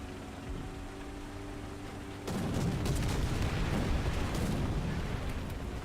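Recoilless rifles on an M50 Ontos fire in War Thunder, a sudden loud dense blast that kicks in partway through and rolls on as a sustained roaring rumble after a quieter engine-toned stretch.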